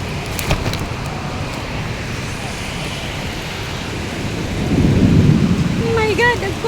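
Thunder rumbles loudly through a heavy rainstorm in a town, with steady rain hiss throughout and a deep swelling roll near the end; a voice briefly cuts in over it.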